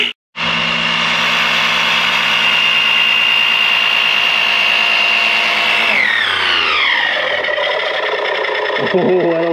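Small oil transfer pump running off a jump pack while drawing 90 weight gear oil in a shop, a loud steady electric whine that holds for several seconds, then drops in pitch and strains unevenly.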